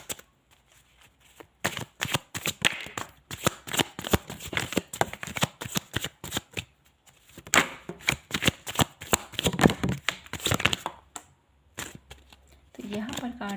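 Tarot cards being shuffled in quick, crisp bursts of riffling and slapping, coming in several runs with short pauses between them, close and fairly clear, with no talking over them.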